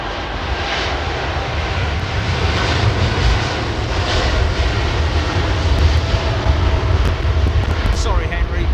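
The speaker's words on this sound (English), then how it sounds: "Andy flies the 380 Emirates" Emirates Airbus A380 landing at London Heathrow Airport, a broad steady roar of jet engines rising slightly as it approaches, loud and continuous with people talking faintly beneath.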